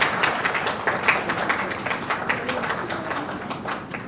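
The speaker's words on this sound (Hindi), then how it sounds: "तालियों के साथ जोरदार हो जाए सभी" Audience applause welcoming Dr. S.K. Singh on stage at a silver jubilee celebration of a knee replacement practice, a steady wash of many hands clapping at moderate distance for about four seconds with no voices.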